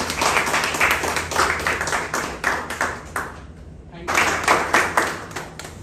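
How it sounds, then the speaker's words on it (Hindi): An audience at an entrepreneurial mindset seminar claps in bursts of rhythmic applause, with a brief lull in the middle before the clapping picks up again, while background talk continues underneath. "एक बार आप लोग तालियों के साथ इनके हौसला अफजाई करें"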